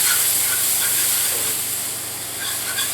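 Steady, fairly loud hiss of cold milk being poured slowly into a hot roux for country gravy, a continuous sizzling wash that eases slightly midway and swells again, with no talk.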